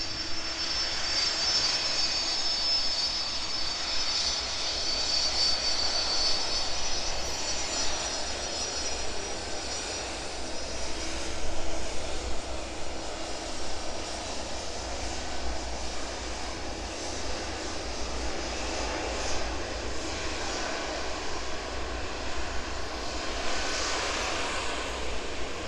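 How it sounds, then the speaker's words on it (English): A DHL Boeing 757 lands at East Midlands Airport at night, its jet engines making a steady, broad roar at moderate distance, with a faint high whine early on and a swell as it passes. "There it is, safely touching down into East Midlands, the DHL 757."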